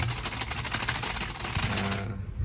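Rapid, steady key clicks from a keyboard typing close by for about two seconds, then stopping abruptly, with no talking.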